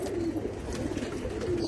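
Pigeons in a loft coo steadily up close, soft rolling low calls overlapping with no pause through the short stretch, no talking.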